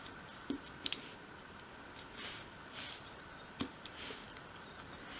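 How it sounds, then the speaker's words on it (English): Small knife-tip cuts into thin wood for a 1/12th scale dolls house wardrobe, a handful of faint, sparse clicks and light scratches, close up with no talking. "you can sort of use the tip of the knife like that and cut through in small cuts"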